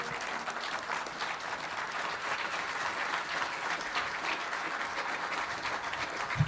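Sustained applause from an audience at a university charter ceremony and centre inauguration in Kenya, steady and even clapping filling the whole stretch without a break.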